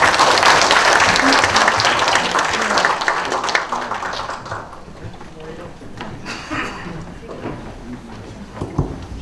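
Loud audience applause fills a lecture hall after a museum concert talk about Pocheon, dense and steady at first, then thinning out and fading into scattered claps and murmurs.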